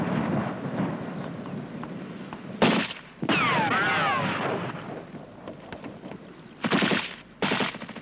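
Rifle and machine-gun fire crackles during an army section fire and manoeuvre drill, a dense loud stream of shots interrupted by sharp, heavier bursts and a whistling sweep, with distant rumbling under it.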